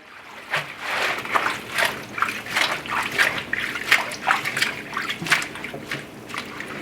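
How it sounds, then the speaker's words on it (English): Collard greens sloshed and agitated by hand in a sink full of rinse water, giving repeated close splashes and swishes in an irregular rhythm with no talking. "we're just going to agitate them a little bit more"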